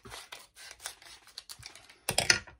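Scissors cut and scratch through a plastic package holding a silicone mould, with a series of short snips and rustles building to a louder, denser burst of cutting near the end.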